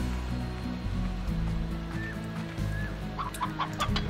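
Hens in Slime Rancher cluck in short, bobbing bursts over a low musical background, moderately loud, with a few higher chirps toward the end and no talking.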